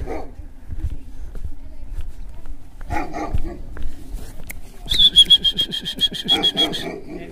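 Dog barking outdoors at a relative's home in the hills, a few scattered barks and whimpers early on, then a close, loud burst of rapid barks toward the end, with people talking faintly in the background.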